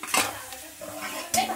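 Potatoes frying in a pan on a gas stove, slightly burnt, with a spatula stirring and scraping against the pan in short bursts over a soft, steady sizzle.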